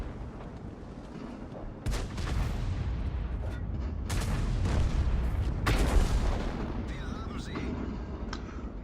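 Hummel self-propelled artillery shells firing in a tank video game: several heavy booming blasts spaced a second or two apart over a rumbling engine bed, with someone talking throughout.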